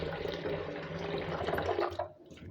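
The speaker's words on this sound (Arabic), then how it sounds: "هنرجع بقى نحطها هنا تاني ونحط عليها شويه ميه" Water poured from a tap or jug over cleaned, gutted fish in a bowl, a steady close splashing and filling that runs for a couple of seconds before tapering off.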